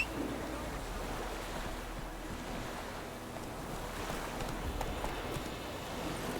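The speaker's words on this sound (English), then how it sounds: "On my horse, Rocher." A horse gallops in The Witcher 3, its faint hoofbeats blending into a steady wind-like rush of open-world ambience.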